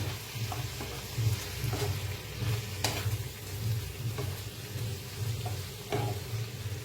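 Potato filling for Mysore dosa being mixed with salt and a splash of water, a steady soft stirring and scraping with occasional light clinks against the pan, under a constant low hum.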